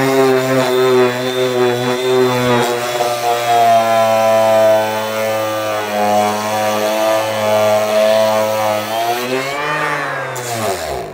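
A Parkside Performance PAESP 12-Li cordless eccentric sander on speed setting 6 whines loudly and steadily under heavy full pressure, its motor pitch dropping slightly as pressure increases, then winding down near the end.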